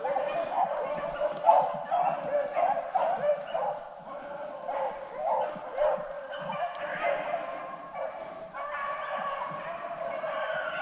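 A rabbit hunting dog bays in a Mississippi swamp, repeated drawn-out howling cries coming in uneven bursts, fairly loud and steady across the whole stretch with no talk over it.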